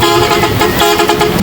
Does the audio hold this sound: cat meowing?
no